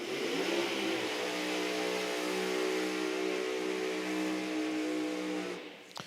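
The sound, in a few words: nitro drag racing car engine revving loudly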